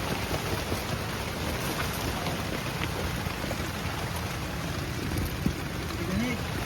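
Steady rain falls outside, giving a continuous hiss with a few faint knocks.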